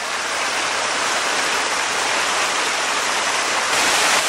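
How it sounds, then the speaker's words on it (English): Small waterfalls tumble along a creek in a steady, close broadband rush of splashing water that holds constant throughout. "Little waterfall after little waterfall."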